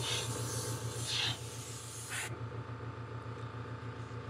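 Black spray paint hissing from an aerosol onto a crankbait fishing lure, a loud continuous spray that stops abruptly partway through and leaves a quieter background.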